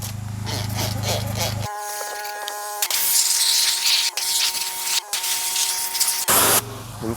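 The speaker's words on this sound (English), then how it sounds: "Now I'm just gonna spray these door jambs out." Pressure-washer water spray blasting out car door jambs during an engine bay and wheel cleaning job, a loud steady hiss that cuts in and out in several bursts with a machine hum beneath.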